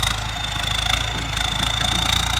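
Ford 6610 turbo farm tractor engine idling nearby, a steady low rumble with a faint thin turbo whine running throughout, no voices.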